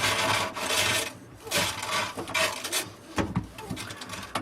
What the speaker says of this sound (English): use it to turn the disposal and dislodge that object.